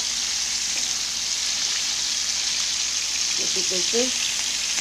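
Shrimp frying in a pan: a steady, hissing sizzle that holds evenly throughout, close by, with someone speaking briefly toward the end.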